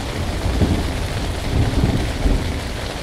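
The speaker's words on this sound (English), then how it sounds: "I was fairly freaked out by the cracks of thunder as the wind and rain lashed my tent" Thunder rumbling through steady wind and heavy rain lashing a tent while solo winter camping in the mountains, with low booms swelling several times over a constant close rush of rain and gusts.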